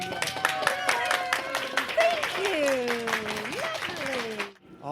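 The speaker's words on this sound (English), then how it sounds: "And a round of applause for a game" Applause from a live audience at a Christmas fair follows a game: a steady round of close clapping runs for a few seconds, mixed with sliding melodic tones and some voices, before it stops abruptly.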